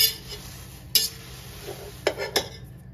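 Poha chivda being stirred in a pan, a few light scrapes and metallic clinks of a spoon against the pan, scattered and close over a faint sizzle.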